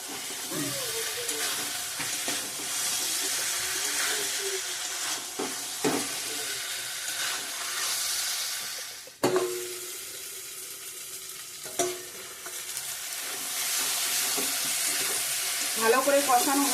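Chicken and spices sautéing in a pan for a Bengali chicken kosha, with steady sizzling and intermittent stirring and scraping, close up, a few knocks against the pan and no clear talk.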